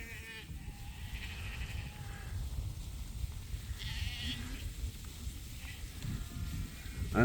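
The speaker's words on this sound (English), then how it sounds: "Sheep, sheep, sheep." Sheep in a pasture bleating intermittently at a moderate distance, several calls rising over steady outdoor background noise and rustling.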